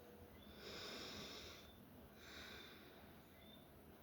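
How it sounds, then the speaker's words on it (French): Slow breaths in a guided breathing exercise: two long, soft airy exhalations, each about a second long, separated by a pause in a quiet room, with no talking. "Commençons donc par ce petit temps de respiration."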